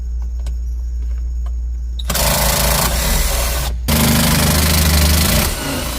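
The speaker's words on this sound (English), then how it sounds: "what we are going to use is our right angle driver with a 4-inch shank" A right angle power driver fitted with an 8mm socket whirs loudly in sustained bursts while backing screws out of a 2013 Honda Civic dash during radio removal, with a short stop between runs.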